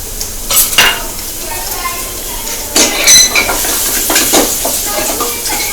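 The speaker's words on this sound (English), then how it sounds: "Stir the onion." Small diced onion being stirred in hot cooking oil in a pan, giving a continuous sizzle with a few sharp clinks and scrapes of the utensil against the pan.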